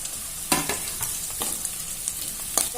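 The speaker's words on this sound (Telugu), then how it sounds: "ఉల్లిపాయ కొంచెం వేగిపోయింది ఇప్పుడు పచ్చిమిర్చి వేసుకుంటున్నాను" Sliced onions and green chillies frying in a pan for a curry, a steady close sizzle with a few sharp scraping stirs and clinks, no voices.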